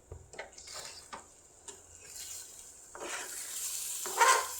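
Turmeric and spices fry in a pan with a soft, steady sizzle while a utensil scrapes and stirs in intermittent clinks, building slightly louder toward the end.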